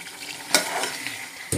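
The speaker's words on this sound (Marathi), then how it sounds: "छान तेलामध्ये आपण आता याला मसाल्यामध्ये शिजू देणार आहोत" Mutton frying in oil with masala, a steady sizzle with a few sharp scraping stirs of a spoon against the pan, close and moderately loud, no voices.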